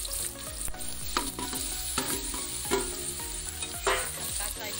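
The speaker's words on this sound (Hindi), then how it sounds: "तो अब मैं ये कद्दू इसके अंदर डाल दे रही हूँ" Raw pumpkin pieces hit a hot kadhai with red chilli and oil, sizzling steadily while a spoon scrapes and stirs in repeated clattering strokes close up, with no talk.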